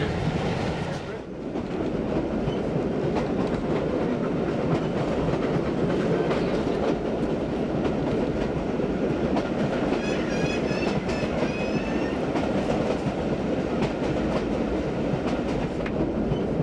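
Steam-era train rolling along railway track at Carnforth, a steady loud rumble with clickety-clack wheel noise throughout and faint squeal later, voices talking over it.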